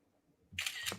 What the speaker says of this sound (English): Let me take a picture.